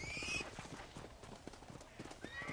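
Horse hooves clip-clop in a steady rhythm in a cowboy video game, with a clear neigh at the start and another whinny near the end, all fairly quiet.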